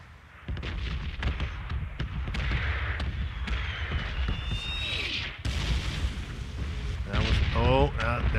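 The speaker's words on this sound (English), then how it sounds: "Oh, that was a big explosion." A big explosion goes off in the video game PUBG, a deep rumbling boom that rolls on under continuous gameplay noise, with a second burst of sound near the end.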